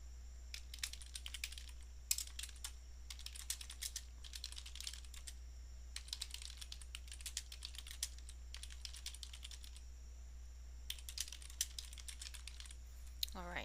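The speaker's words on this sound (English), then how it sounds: "I can type in my long description if I wish." Typing on a computer keyboard while entering a rubric description, with irregular clusters of light key clicks and brief pauses, close and soft over a constant low electrical hum.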